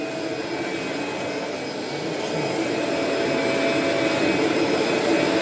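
A Kirby vacuum cleaner runs continuously nearby, a loud, steady high-pitched motor whine and airflow rush that rises slightly in intensity partway through, with no talk over it.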